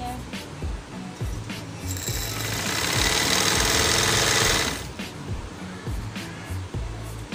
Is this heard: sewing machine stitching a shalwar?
yes